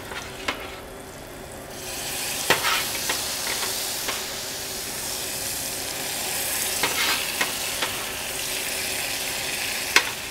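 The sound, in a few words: pasta cooking water added to sizzling courgette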